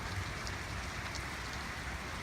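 Heavy rain pouring down onto snow-covered ground in early March, a dense continuous hiss with faint scattered drop impacts, steady and enveloping, no talking.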